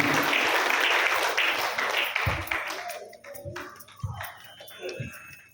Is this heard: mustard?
no